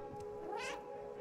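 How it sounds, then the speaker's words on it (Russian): A cat meows in Stray, a single drawn-out wavering meow, close and clear over a steady background hum. "Мяу!"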